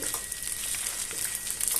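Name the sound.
rice being stirred and frying in pot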